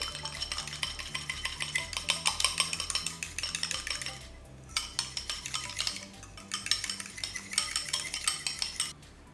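Eggs being mixed with pie ingredients in a bowl, a quick rhythmic clinking of a utensil against the bowl, close and clear, with a brief pause midway.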